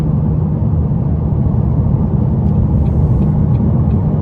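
A 2017 McLaren 570S with 664 hp cruising in normal handling mode, its engine and road noise forming a loud, steady low rumble from inside the cabin.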